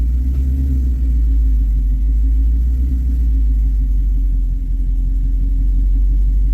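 Car engine idles steadily in reverse with the emergency brake engaged, a constant low rumble close by with no talking.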